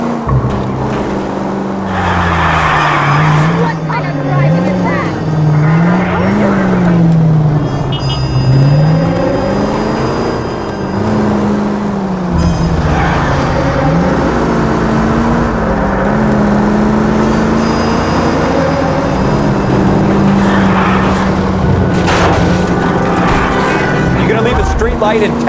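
Car engine revving and roaring continuously while driving in the L.A. Noire video game, with pitch rising and falling through gear changes and brief tire skids, loud and up close, with voices talking over it.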